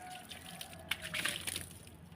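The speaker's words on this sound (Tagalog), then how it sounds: "Ayan, gawin natin sprinkler yung pandilig." Watering can used as a sprinkler over soil for carrot planting on cemented flooring, a faint, brief patter and trickle of water drops.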